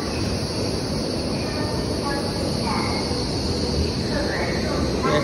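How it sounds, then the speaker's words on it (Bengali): A high-speed train pulls into Guangzhou Railway Station, a steady broadband rumble and hiss of rolling wagons holding loud and even throughout, with faint squeals drifting above it. "তো এই হচ্ছে আমাদের ট্রেন চলে আসছে আজকে।"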